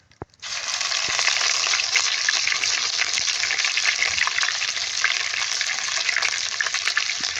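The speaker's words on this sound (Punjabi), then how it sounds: "ਇਹਨੂੰ ਭੁੰਨ ਲੈਣਾ ਅਦਰਕ ਤੇ ਲਸਣ ਨੂੰ ਆਪਾਂ ਚੰਗੀ ਤਰ੍ਹਾਂ" Ginger and garlic frying in hot oil with mustard seeds, a loud, steady sizzle that starts abruptly after a brief quiet moment and holds a dense crackle throughout with faint stirring.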